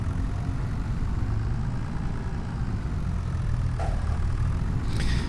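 A tractor engine idles in a farming roleplay video game set in Montana, a constant low, rumbling hum holding steady throughout with no voices.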